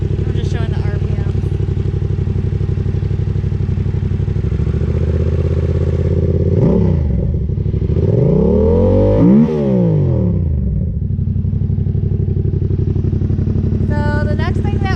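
A motorcycle engine idles loudly up close, then revs up and down in a couple of rising and falling sweeps before settling back to a steady idle.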